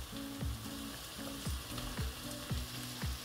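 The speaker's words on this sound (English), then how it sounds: "It's now time for me to add my diced red onions" Diced red onions frying in a pot for vegan jollof rice, a steady crackling sizzle beneath a regular series of low thumping pulses repeating roughly every half second.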